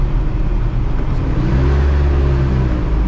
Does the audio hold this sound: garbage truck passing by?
yes